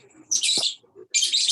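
A bird gives two short, bright chirps close by, with a soft thump between them.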